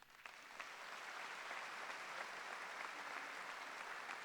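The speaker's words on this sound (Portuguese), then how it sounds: "Aplauda mais uma vez." A Catholic church congregation applauds after a testimony at a Mass, a sustained, even wash of clapping from many hands that holds steady throughout.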